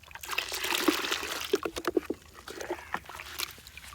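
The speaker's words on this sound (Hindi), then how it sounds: "ये फ्लड कर रहे हैं हम पानी में यहाँ से" Water mixed with a thick fertilizer of potash and nitrophos floods into a radish bed, making a steady rushing, gurgling pour with scattered splashes and trickles.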